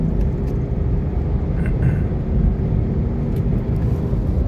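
A Hyundai Verna 1.5 turbo car accelerating hard, a loud steady engine and road rumble heard from inside the cabin, continuous and droning with no speech.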